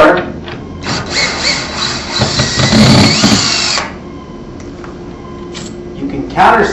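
A power drill drives a screw into a bullnose frame, whining steadily for about three seconds at close range, then stopping; a person talks over the tool and afterward.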